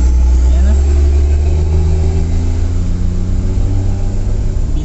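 A truck on the wrong side of a town road rolls over a speed bump, a loud steady engine rumble close by with a low drone throughout and no clear bump impact.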